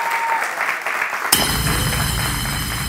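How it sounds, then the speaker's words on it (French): Studio audience applause on a French talk show breaks out abruptly partway through, a loud sustained clapping bed layered with music after a quieter opening. "Est-ce qu'on peut applaudir dans le studio?"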